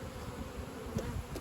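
Honeybees buzz steadily at an opened, recently boosted beehive, a soft close hum with a few louder passes of single bees, and no talking.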